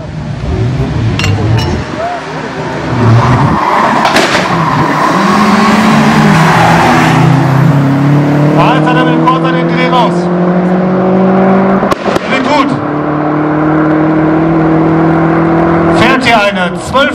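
Cars racing a quarter-mile drag strip at a German event in Aldenhoven, an Audi 80 against an Audi RS6, with loud engines revving and rising in pitch through gear changes, a crowd and announcer-style voices mixed in throughout.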